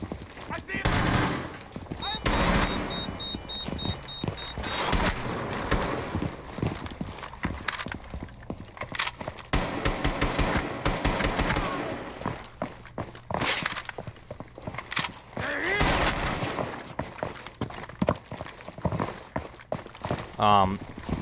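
Rainbow Six Siege gameplay gunfire comes as repeated sharp bursts and single shots at varying loudness, mixed with footsteps and game effects, while someone talks over the action throughout.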